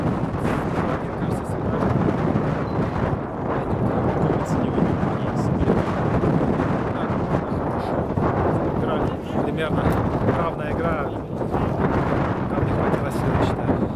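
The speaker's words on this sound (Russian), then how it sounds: "Погода не очень, ветер сильный" Strong wind buffets the microphone in a constant roaring rush, gusting throughout with a low rumble underneath.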